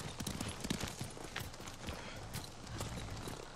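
Horse hooves clip-clop steadily in the video game Ghost of Tsushima, several horses walking in a soft, continuous rhythm, faint and somewhat distant with no clear speech over it.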